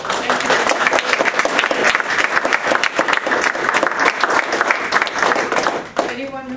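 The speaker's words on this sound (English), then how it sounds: "let's have a round of applause" An audience at a book talk bursts into a sustained round of applause, dense close clapping that fades out near the end, with a voice speaking briefly as it dies down.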